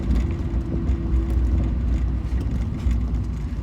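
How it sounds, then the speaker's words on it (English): A Mazda Miata's steady engine drone with a noisy power steering pump's whirring mechanical whine running continuously underneath, loud and close, no speech. "The power steering pump is noisy."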